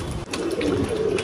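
A pigeon coos close by in a short, soft, rolling call that repeats in a low throaty rhythm with no one talking.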